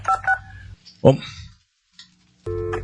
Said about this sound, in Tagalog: Ang cellphone ko nagaring.